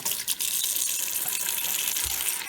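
Tap water gushes steadily into a bucket being filled to soak a toad enclosure's contents, a constant bright splashing rush, close and alone, with a faint thump near the end.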